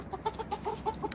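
Backyard chickens let out of their coop in the morning, a rapid series of close, soft clucks in an uneven rhythm, with no talking.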